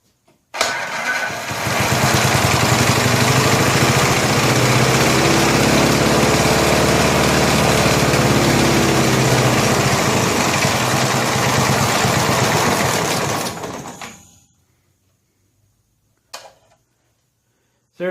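A vintage Snapper walk-behind lawn mower engine, being worked on for a faulty drive, starts up and runs loud and steady for about twelve seconds before cutting out. A couple of brief knocks follow in the silence.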